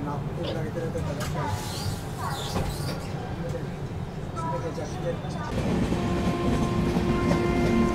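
An Indian Railways train crossing the Varanasi–New Delhi orange-liveried Vande Bharat Express, heard from aboard the Mahabodhi Express as a steady loud rumble with clickety-clack rail noise, swelling louder in the last few seconds.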